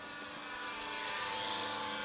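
A homemade RC plane built from pink insulation foam, with a cheap, unsmooth throttle, buzzes steadily overhead as a high-pitched motor whine that swells slightly louder over two seconds, with no talk.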